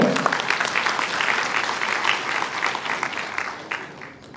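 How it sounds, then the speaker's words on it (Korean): A lecture-hall audience at a stock investment seminar gives a burst of applause, dense and sustained for about four seconds before tapering off. "자, 박수 한 번 주세요."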